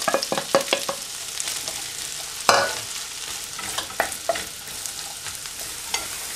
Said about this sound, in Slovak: Pórik sme si nakrájali na kolieska a dáme ho teraz opražiť na panvičku s